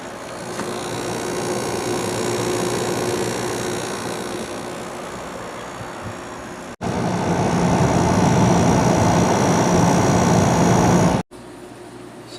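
A White Westinghouse 5,000 BTU window air conditioner from 2001, with an LG compressor and GE fan motor, runs on cool with a steady close hum that briefly cuts and then steps up louder partway through.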